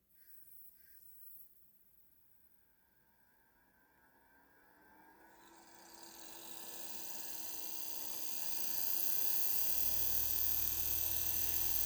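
A small toy electric motor fed by a low voltage of about half a volt, spinning up from near silence into a steady, faint whirring hum that rises in pitch and grows louder over several seconds.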